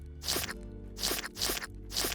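Four crunchy bites in Grounded, spaced at a loose, uneven rhythm, as muscle growths in a lab are slurped up, close and moderately loud.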